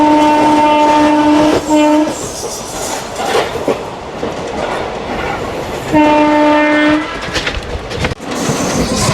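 Narasapur Express train running from Lingampalli to Narasapur, its horn sounding in two long, loud blasts over a steady rolling rumble and rattle of the carriages.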